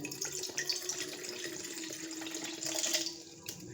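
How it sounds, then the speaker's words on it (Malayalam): Water pours steadily for a few seconds, a close splashing trickle that swells briefly before tapering off. "എനിക്ക് വേണ്ട വെള്ളം ഞാൻ ഒഴിച്ചിട്ടുണ്ട്"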